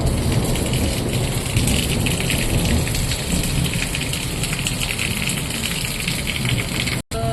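Heavy rain pouring down during a storm in Patna, a dense, loud, unbroken hiss of falling water with no voices, briefly cutting out near the end.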